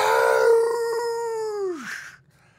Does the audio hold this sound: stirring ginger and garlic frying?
no